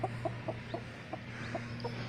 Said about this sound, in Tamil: குஞ்சு கோழியை காட்டு.